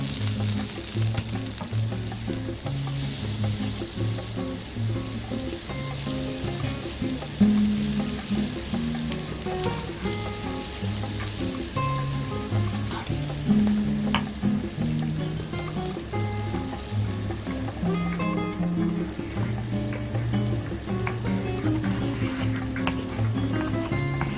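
A quarter cup of butter melts in a pan for mushroom gravy, giving a soft, continuous sizzle and spatter up close, with faint background tones and no one talking.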